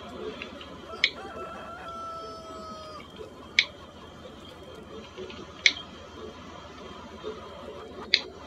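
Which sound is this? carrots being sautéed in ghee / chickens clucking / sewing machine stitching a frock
chickens clucking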